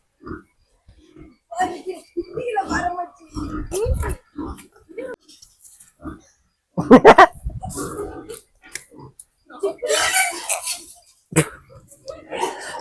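Pigs on a pig farm grunt and snort nearby in uneven bursts, mixed with people talking and some louder squeals.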